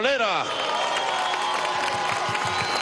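A rally crowd breaks into broad applause and cheering for oil industry workers, a dense steady wash of clapping after a loud voice at the start, with faint shouts scattered through.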